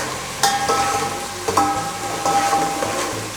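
Fried rice sizzling loudly in a hot pan, a steady frying hiss broken by several sharp scrapes and clanks of a spatula stirring against the metal, no voices.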